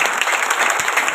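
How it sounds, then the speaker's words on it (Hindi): In a crowded hall at a Delhi business seminar, loud sustained applause roars evenly from many people at once, with no speech over it. "सभी एक बार जोरदार तालियां बजाइए।"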